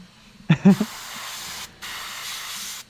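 A detail airbrush sprays paint onto miniature model bases, giving a steady close hiss in two long bursts after a couple of soft knocks, with a brief pause between the sprays.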